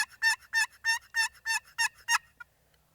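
A person imitates a wild turkey call, eight loud, evenly spaced yelping notes close to the listener, then falling silent apart from one faint trailing note.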